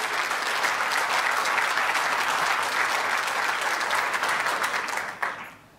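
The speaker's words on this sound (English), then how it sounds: "Thank you for the applause, of course." Loud, sustained audience applause fills a talk hall, dense and even, then drops off abruptly near the end.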